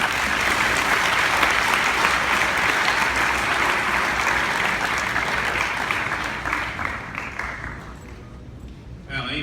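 A high school hall of fame audience claps loudly and steadily in a sustained burst of applause welcoming Jeffrey Barnhart. The clapping fades near the end.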